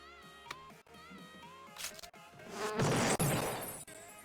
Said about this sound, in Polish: Ja mam pszczoły.